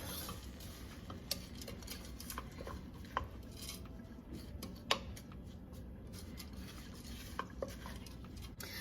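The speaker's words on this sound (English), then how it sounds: "we're gonna give this a stir" Cauliflower rice and green onion being stirred in a pan, soft scraping with scattered light clicks and taps of a utensil against the cookware, quiet and close, with no talking.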